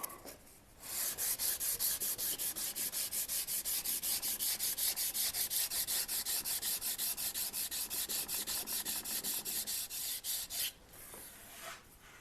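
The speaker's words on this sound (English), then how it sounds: "Quick little sand job there." Steady, rhythmic back-and-forth strokes of hand sanding on wood, a rapid even scratching that runs continuously for about ten seconds before stopping, with a brief quieter rub at the end.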